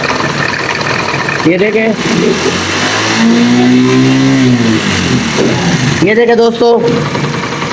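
A Honda CD 70 motorcycle engine idles loudly up close, then is revved with the accelerator in rising and falling surges, while someone speaks over it.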